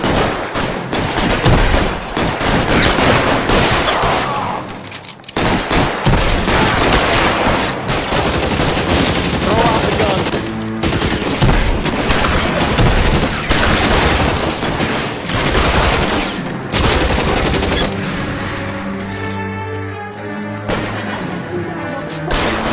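Sustained heavy gunfire rages in an L.A. Noire police shootout, dense overlapping shots and bursts filling nearly the whole stretch with only brief lulls, loud and close throughout.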